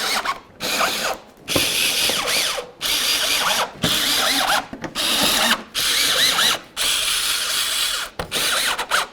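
A power tool tightening bolts on a Lexus GS300 while a headlight assembly is refitted, close and loud in about eight whirring, ratcheting bursts of roughly a second each, separated by short gaps.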